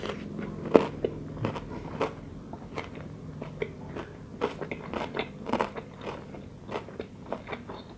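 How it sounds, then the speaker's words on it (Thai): Spicy cockle salad with salted egg yolk eaten up close, irregular crunchy bites and wet chewing clicks scattered across the stretch, with no talking. "วันนี้ไอก็จะมาทำ ASMR เสียงกินยำหอยแครงไข่แดงเค็มนะคะ"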